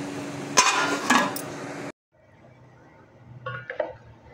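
Metal clinks of a cooking pot lid being set over mutton chops frying in oil, two sharp clangs, then a pause and a few softer scraping knocks.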